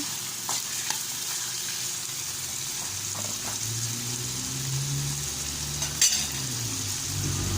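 Corn goes into a pot of chicken soup, bringing a steady bubbling sizzle with stirring and a couple of sharp metallic clanks from the pot, close and moderately loud.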